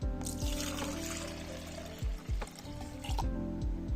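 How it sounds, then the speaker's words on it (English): Coconut water is poured into a blender holding sorrel, a steady liquid trickle and splash running for several seconds with a few low thumps and knocks from the container. "Using coconut water to blend sorrel is one of the most delicious,"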